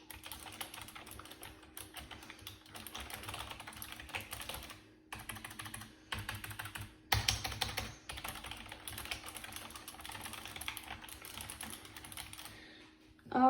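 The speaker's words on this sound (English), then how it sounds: "they're also very tactile and clicky, which comes from the mechanical keyboard" Typing on a tactile, clicky Razer mechanical gaming keyboard: a quiet, dense run of rapid key clicks with a few brief pauses, heard close with no talking.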